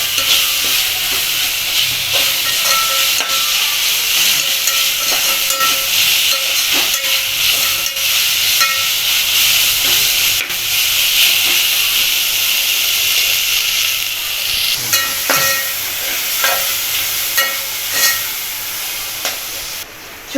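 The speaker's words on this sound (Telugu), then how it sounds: "అల్లం వెల్లుల్లి పేస్ట్ వేసుకొని బాగా కలుపుకోవాలి." Ginger garlic paste frying with onions in a pan for coconut milk rice, a loud continuous sizzle and hiss with repeated scraping clicks of a spoon stirring throughout.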